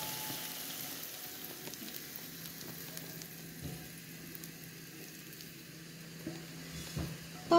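Olives stir-fry in a pan for a Turkish zeytin kavurması, a soft, steady sizzle with occasional scraping stirs and light pops, fairly quiet and without talk.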